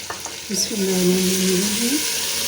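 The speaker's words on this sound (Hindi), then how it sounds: "अब हम इन्हें अच्छी तरह से भून लेंगे।" Eggplant pieces, washed in salted water and cut into quarters, fry steadily in a pan, a continuous sizzle with a brief stirring clatter near the start.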